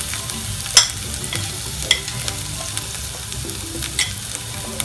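Asafoetida, ginger and garlic frying in a spoonful of hot oil give a loud, steady close sizzle, with a few sharp clinks and scrapes from a spoon against the pan.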